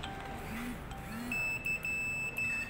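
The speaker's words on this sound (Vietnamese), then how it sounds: "Anh em nghe tiếng kêu tít tít là được." A multimeter on continuity test gives a thin electronic beep in short bursts, sounding several times close by after a moment of background noise, during motorbike electrical repair on a scooter.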